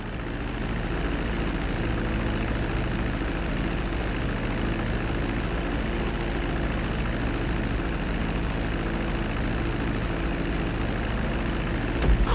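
A plane taxis off the runway in the video game GTA V, its steady, loud propeller-engine drone filling the whole stretch without a break.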